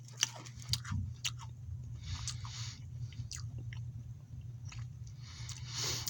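Close, quiet chewing of crumbly military ration crackers, with soft irregular crunches and mouth sounds over a low steady hum and no talking.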